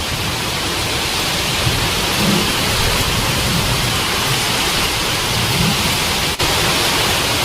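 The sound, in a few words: heavy rain with thunder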